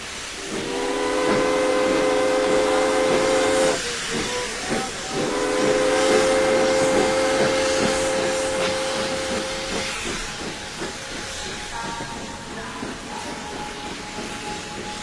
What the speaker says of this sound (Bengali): ট্রেন 2 মিনিট থেমে চলে গেল।